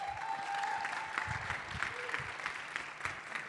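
Audience applause at an online hackathon awards ceremony, a steady wash of clapping held at an even level throughout, with a faint tone and some low thumps underneath.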